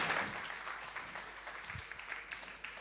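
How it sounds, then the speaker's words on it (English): Sustained applause from an audience, a dense wash of many hands clapping steadily, loudest at the start and tapering slightly. "give a big round of applause"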